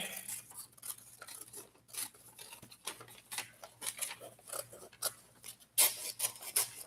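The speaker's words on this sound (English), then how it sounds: "Now what you're going to do is you're going to get your scissors and you're going to cut out the outline." Scissors snip through paper to cut out a craft outline, in quiet, close, irregular bursts of short cuts with small pauses between them.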